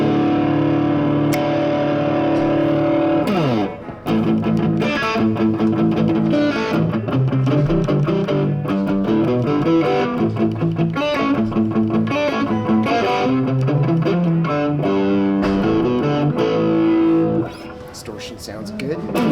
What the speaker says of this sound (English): Let's see what happens when we put a little bit of distortion on this